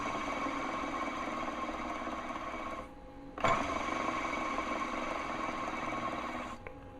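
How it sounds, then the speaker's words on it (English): Worn, dry bearings spinning in the drivetrain of a Delta 22-540 planer give a steady, close whirring hum. It dips briefly near the middle, a single knock follows, and the hum resumes. "I've got the drivetrain out so I can listen to these bearings when they spin. I'm going to let you hear them."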